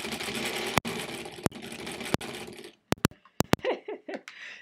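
A 1938 Kenmore model 38 sewing machine stitches half square triangles with a steady, close, dense mechanical whir. It halts abruptly near the end, and a few sharp clicks and brief rustles follow in the quiet.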